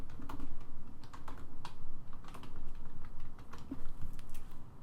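Rapid clattering keystrokes on a computer keyboard as an email address is entered, steady close-up typing with no talk.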